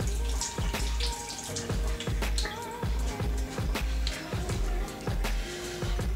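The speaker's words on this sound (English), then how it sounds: "Let me rinse this spoon off." A spoon rinsed under a running kitchen tap, with a steady broadband splash of water and repeated knocks of metal against the sink, close by and fairly loud throughout.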